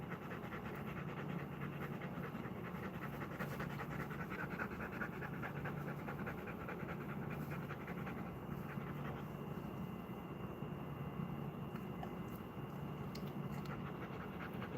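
A dog pants in rapid, continuous breaths, heard close and steady throughout over a low rumble that sounds like a passing train.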